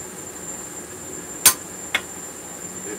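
A hammer strikes a chisel to score a line into hot steel during forging, giving one sharp metallic ring, then a quieter second tap half a second later, against a faint steady background hiss.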